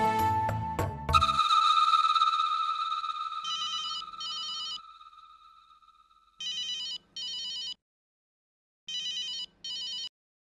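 A telephone rings in repeated double bursts with short pauses between them, a clear electronic ring alone after a brief burst of louder sound at the start.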